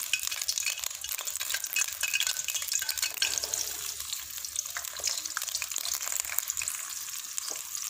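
Sliced onions fry in hot oil for a dal tadka, a steady soft sizzle with faint stirring and clinks, close and continuous with no talk.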